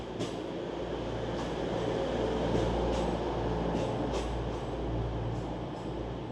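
An East Midlands Railway intercity train, running as a short five-coach set, rolls into a station platform with a loud, steady rumble and scattered rail clatter close by.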